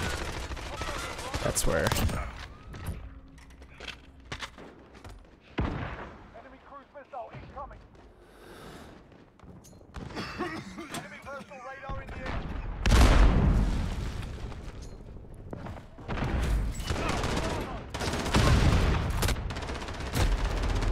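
Automatic and single gunfire bursts from the video game Call of Duty: Modern Warfare, several loud volleys with sharp booming shots between quieter stretches, mixed with game effects while a player talks over the action.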